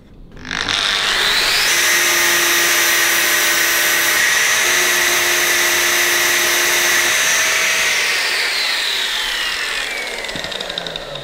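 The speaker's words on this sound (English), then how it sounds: "So just take your normal grinder" Handheld grinder works metal on a Harley-Davidson WLA engine part during a roller tappet upgrade, a loud continuous high whine held for several seconds and then easing off, close up with no talk.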